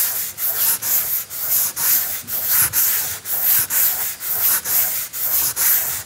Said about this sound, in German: diese Kante ist viel zu hoch und die muss jetzt weggeschliffen werden